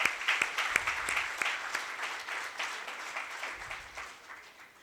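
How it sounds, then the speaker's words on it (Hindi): An audience breaks into loud applause at a session in Yavatmal, a dense burst of many hands clapping that starts strong and slowly tapers off over a few seconds. "जोरदार तालियां इसके लिए"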